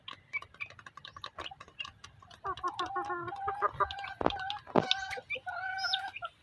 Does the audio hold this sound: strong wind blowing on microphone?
no